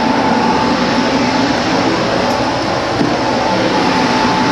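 A homemade computer-cleaning machine runs with suction, giving a steady, loud broadband whoosh of moving air with a faint constant hum, continuous and unbroken throughout.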